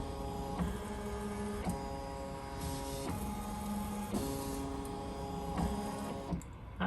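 Ricoma EM1010 embroidery machine tracing a design outline on a Mighty hoop, a soft mains-like hum with steady tonal whirring broken by regular motor shifts about once every second or so, ending with a brief clunk.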